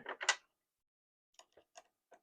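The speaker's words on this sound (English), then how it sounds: "So I'm taking my regular sewing machine foot off and I'm replacing it with my free motion quilting foot." A presser foot on a sewing machine is taken off and a free motion quilting foot fitted, giving a few faint, sharp clicks and small metallic taps in quiet surroundings.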